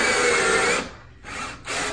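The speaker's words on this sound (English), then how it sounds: "Like when I'm cutting with a hole saw" A power drill drives a hole saw into a wooden door while a locksmith installs locks, a loud grinding whir that cuts out briefly and starts up again twice.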